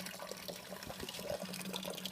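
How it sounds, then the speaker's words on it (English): Fly sparge water from a rotating arm sprinkling onto a hot grain bed while brewing a strawberry blonde ale, a steady continuous splashing trickle with a low hum underneath, close and moderately quiet. "So here's the fly sparge. You can see I got it with my rotating arm coming down,"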